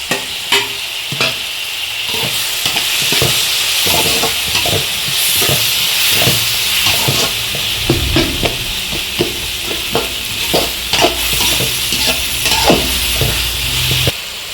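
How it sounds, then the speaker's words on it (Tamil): Tomatoes sauté in a pan with onion and ginger-garlic paste, giving a continuous close sizzle and hiss broken by frequent sharp spatula scrapes and knocks against the pan, with no talking. "தக்காளி சேர்த்து நல்லா வதக்கிக்கலாம் ஃப்ரெண்ட்ஸ்."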